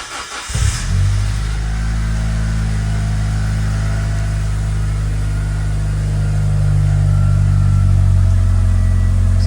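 A Mitsubishi Evo V with factory OEM cat runs on the road, its engine and exhaust giving a loud, steady droning rumble that swells slightly as it pulls along, with no voices.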